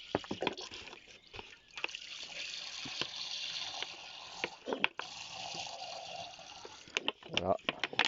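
Ethanol poured into an ultrasonic cleaning machine for diesel injectors makes a gurgling, splashing stream of liquid with clattering handling noises around it, close up, and a voice talking over parts of it.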